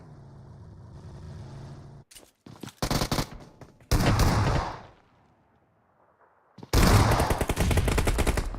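Rapid bursts of automatic gunfire from the PUBG Mobile video game, with several loud dense volleys separated by short gaps and a brief quiet stretch, without any talk over them.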